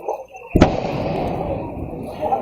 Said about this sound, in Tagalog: matapos ang narinig na pagsabog bandang alas 7 kagabi